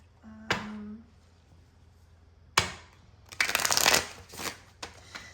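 Tarot cards are shuffled by hand close up: a sharp tap, then a riffling burst of flicking cards and a few softer slaps, with a faint tone at the start.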